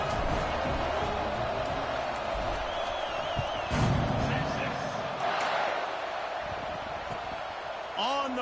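A stadium crowd buzzes with a steady roar and scattered cheers at a video game football match, running continuously beneath an announcer's play-by-play commentary.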